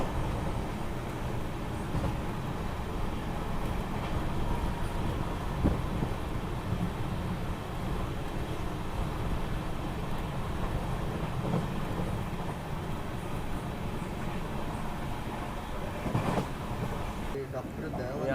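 The Mangaluru–Nagercoil Amrit Bharat Express runs along Kerala's coastal line toward Kannur station, giving a steady, loud, close rumble of wheels and carriage noise that carries on without a break for the whole stretch.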